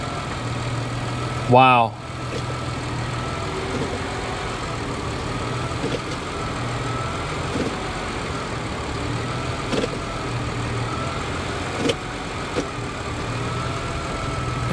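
A high-mileage Nissan Armada engine idles with a low, steady hum that carries through the clip, while a voice exclaims once near the start.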